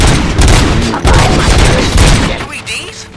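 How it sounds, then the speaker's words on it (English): Bursts of gunfire and booming blasts in the RoboCop video game, loud and dense for about two and a half seconds before easing off, with game dialogue mixed in beneath the shots. "Gunshots? What's going on?"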